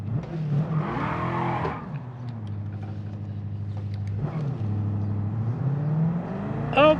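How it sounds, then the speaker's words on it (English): A race car in a racing video game on the Sardegna track spins out, its engine droning and revving as tires squeal and skid through the slide, loud and continuous throughout. "Alright, a little spin out there."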